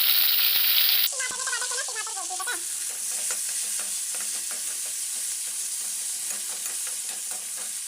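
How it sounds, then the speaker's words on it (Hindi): Tomatoes going into a frying bean curry bring a loud hiss that drops after a second, followed by a steady sizzle and repeated stirring scrapes from a spoon in the pan. "अब हम डाल रहे हैं इसमें टमाटर।"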